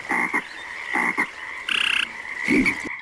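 Frogs croak in a garden, with several loud, close bursts of raspy croaking separated by short pauses and no voices.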